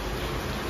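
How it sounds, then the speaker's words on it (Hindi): Heavy rain falls outside a balcony as a dense, even roar of hiss that stays constant through the brief moment, with no voices. "बारिश आ रही है बहुत जबरदस्त"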